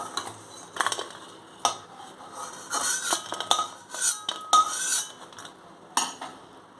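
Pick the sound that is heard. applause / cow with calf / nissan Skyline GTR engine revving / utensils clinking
utensils clinking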